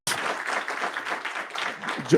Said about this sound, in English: Let's give them an applause before we dismiss.